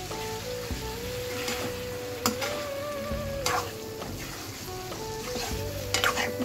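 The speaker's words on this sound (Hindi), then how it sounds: "पहले इसको चला लेते हैं।" Pav bhaji masala and vegetables sizzle and fry in a pan while being stirred, a steady close hiss with occasional scraping stirs and light clinks and no talk.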